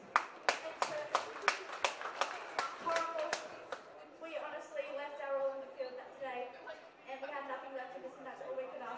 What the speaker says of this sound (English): Can we get a big round of applause for our runners-up in the Adelaide Girls, Carnival Cougars?